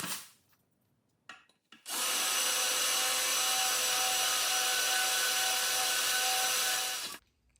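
A power drill bores a hole in metal during a carburetor-to-EFI conversion on a twin turbo big block engine, a steady high whine lasting about five seconds after a few short bursts, then stopping abruptly.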